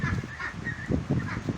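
Domestic ducks quacking in a backyard, a few short honking calls in quick succession, close and moderately quiet.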